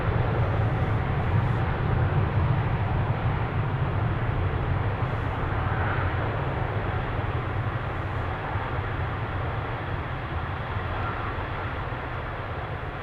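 A 15-year-old KLM Boeing 777 departs from Amsterdam Schiphol, giving a heavy low rumble of jet engines that is loudest early on and then slowly fades as it moves away, with no voices.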